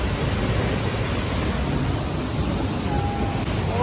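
Water at Dumi Waterfalls rushes in a dense, steady roar, loud and unbroken from start to finish, with no voices over it.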